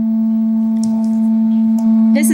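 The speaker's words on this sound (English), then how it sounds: "Of the engine making the humming" A steady, loud droning hum from a car engine after a starter repair holds one pitch throughout, like an engine idling up close, with a brief hiss at the end.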